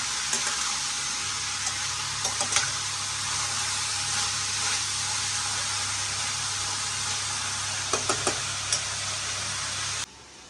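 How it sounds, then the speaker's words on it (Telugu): Black-eyed pea (barbati) curry with tomato cooks in a pan, a steady, close hiss of sizzling broken by a few quick spoon clicks and scrapes, ending abruptly. "ఇప్పుడైతే బాగా కలిపేసాను కదండి, మనం మొత్తం మిక్స్ బాగా కలుపుకున్నాను"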